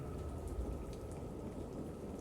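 Steady rain pouring down in a night storm, a dense continuous hiss and patter at an even level with no clear thunder crack, rain pushing in through an open door.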